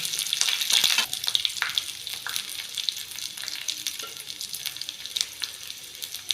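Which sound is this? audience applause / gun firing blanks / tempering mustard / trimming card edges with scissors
tempering mustard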